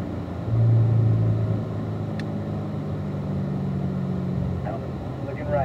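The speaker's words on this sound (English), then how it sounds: "you'll hear the tires rumble underneath the car when you're driving over it" A Corvette's tires rumble low and steady over a curb at a driving school, with engine noise droning under the continuous rumble and no talk.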